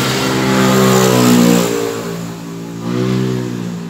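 Honda TMX155 single-cylinder motorcycle engine after a valve clearance adjustment, revving up and easing back twice in close succession, loud and near, with a rising and falling tone and no talking.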